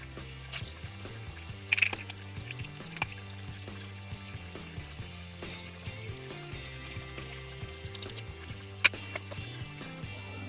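Epoxy resin poured into a table mold, a faint continuous liquid stream with soft trickling and occasional small knocks and clicks, heard with no talking.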